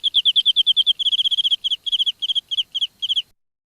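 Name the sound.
recorded cricket sounds, fake crickets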